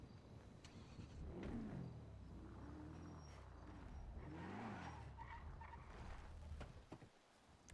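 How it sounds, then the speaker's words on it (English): A car in the NoPixel 4.0 roleplay game revs and shifts pitch as it maneuvers, with tires skidding and squealing through a steady, fairly loud engine drone. No one speaks. "I can't park my damn car."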